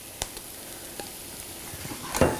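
Mushrooms softening in a hot CSK red granite nonstick pan, a steady low sizzle with faint stirring taps and a louder scrape near the end, close up with no talk.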